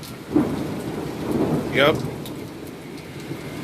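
Rain pours steadily on a stormy night while thunder rumbles low and close, with a faint distant whoosh that may be passing traffic.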